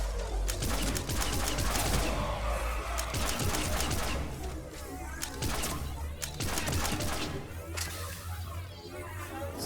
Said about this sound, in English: I hate the sound of this gun